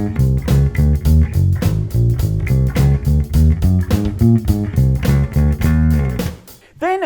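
Bass guitar playing the funky syncopated intro riff of a song, punchy plucked notes in a bouncing repeated groove, loud and close, ending with a short pause and a final note.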